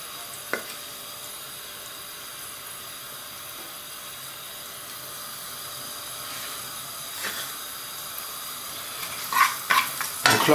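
Shallots sweat in a pan for a mushroom cream sauce, giving a low continuous sizzle with an occasional tap, then a louder burst of crackling and spatter near the end, heard close with no speech.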